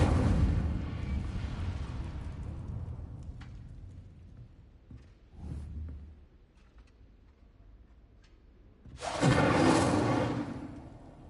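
Incendio fire spell cast in Hogwarts Legacy, a whooshing burst of flame that flares loud and then fades, with a fainter flare earlier and quieter rumbling between.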